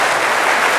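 Audience applause fills the room at an event, a dense, loud burst of clapping heard alone throughout the brief moment.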